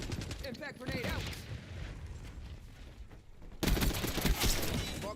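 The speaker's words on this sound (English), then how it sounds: "Impact grenade out." In the Black Ops 6 video game on the Nuketown map, a burst of gunfire and an impact grenade blast crackle loudly, with dense overlapping shots and explosive noise and game voice chatter underneath.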